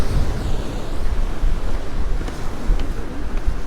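Rough sea at Palmanova, Mallorca, with loud continuous surf and gusting wind buffeting the microphone, a heavy low rumble throughout and no talking.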